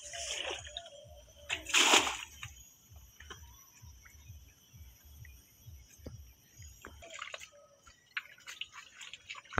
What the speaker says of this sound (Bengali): জালের মধ্যে পানি সেচ দেওয়া হইতেছে।